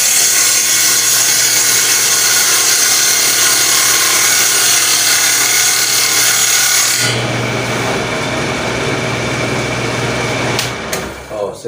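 A table saw cutting through a piece of wood, with a loud steady whine and rasp of the blade in the wood for about seven seconds, then the blade running on more freely until it spins down near the end.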